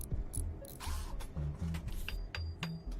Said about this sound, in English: Whack, whack, whack with the hammer.